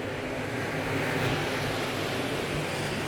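Race cars in a 2025 604 Racing Series feature race roar as one at the green flag, a dense, steady engine wash that fills the whole moment without a break.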